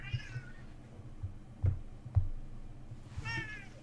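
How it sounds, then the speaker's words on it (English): A Siamese cat meows loudly and insistently, close by, with two drawn-out calls at the start and end separated by soft thumps and low indoor background noise. "It's a cat. It's a very vocal cat."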